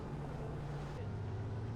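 A tour boat motor drones steadily on the river at Iguazu Falls, a low continuous hum with wind rush over it, close and constant through the short stretch.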